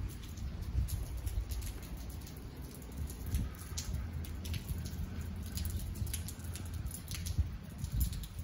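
Steady rain patters on surfaces nearby under a portico, a continuous soft hiss with scattered drips and low rumbling underneath.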